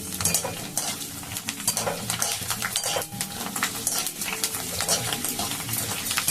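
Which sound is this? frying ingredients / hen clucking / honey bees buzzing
frying ingredients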